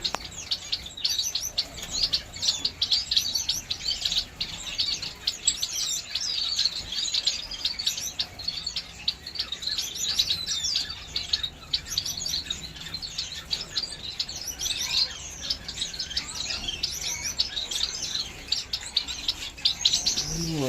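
A dense, constant chorus of many small pet birds in an aviary chirping and tweeting at once, bright and busy throughout with no voices.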